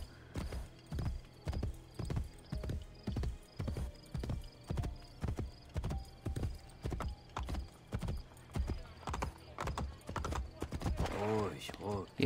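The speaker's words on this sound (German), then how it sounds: "reiten lieber mal mit dem Pferd hier" Rhythmic clip-clop of horse hooves trotting at a steady pace in the video game Assassin's Creed Brotherhood, close and prominent, with a brief whinny-like sound near the end.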